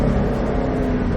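A Ford Shelby GT500 engine on track, driven under partial throttle, roars loud and close as a steady, full-bodied drone with no voices.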